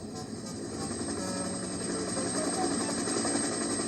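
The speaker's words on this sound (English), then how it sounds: "The noisiest of all was a helicopter." A helicopter passing near an airfield, a steady loud droning whir with a constant low rumble that holds at a fairly even level throughout, with no voices.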